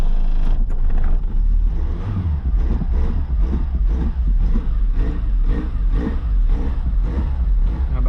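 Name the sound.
small car engine starting and running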